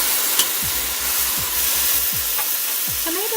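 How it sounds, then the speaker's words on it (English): Tomatoes go into a hot pan with tender green chilies for homemade palak paneer, giving a steady broadband sizzle of frying with a few soft stirring scrapes and clinks throughout. "It's time to add tomatoes now."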